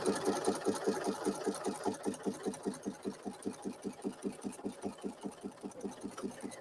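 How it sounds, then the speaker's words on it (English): Embroidery sewing machine basting under foot control, a fast steady rhythmic needle chatter with a mechanical hum, close and fairly quiet, running alone without talk. "So I'm using my foot control, and I'm going to sew along here,"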